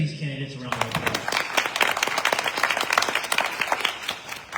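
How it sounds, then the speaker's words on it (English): An audience at a school board candidates forum claps for the candidates in a strong, sustained round of applause. A brief voice is heard at the very start before the clapping takes over. "Will you please give these candidates a round of applause?"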